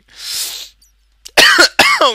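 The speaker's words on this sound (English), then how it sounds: "Now you've made me cough and that's just awful." Two or three sharp, loud coughs from a single nearby voice, preceded by a breathy exhale, with the last two coming in close succession.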